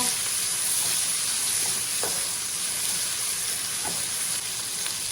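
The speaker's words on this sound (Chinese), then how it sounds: "肉煸出油脂以后，把我们切好的小料下进去，把小料先给它煸香" Chopped aromatics hit hot rendered pork fat in a wok and sizzle with a steady, loud hiss, with a few light scrapes from stirring.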